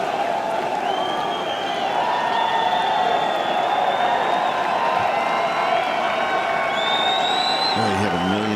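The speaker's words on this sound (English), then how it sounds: "Listen to the crowd cheer Phil on his birthday on Father's Day one last time." Golf gallery at the 2013 U.S. Open at Merion cheering Phil Mickelson, a sustained roar of applause, clapping and whoops from a large crowd, loud and unbroken, with a voice at the very end.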